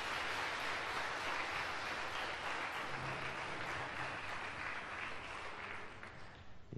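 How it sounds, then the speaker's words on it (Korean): A church congregation applauds in sustained, dense clapping that fills the room for several seconds before fading at the end. "온유에게 세상에 잘 나왔다고 환영의 박수를 한번 주십시오."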